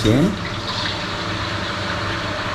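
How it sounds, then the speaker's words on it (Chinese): Tap water runs steadily into a boiler-style water heater tank, a constant close rushing fill that continues throughout after a brief tonal voice at the start. "开水"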